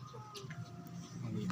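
Several pigeons coo softly at close range, making low rolling murmurs that repeat through the moment over a quiet background, with a few faint bird chirps mixed in.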